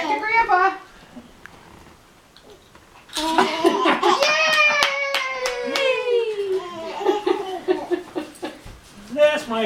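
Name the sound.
hands clapping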